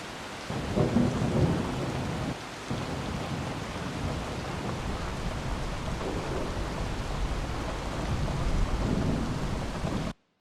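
Steady rain across a city soundscape with dense mid-range patter and low rumbles of thunder rolling underneath, continuous and fairly loud for the whole stretch.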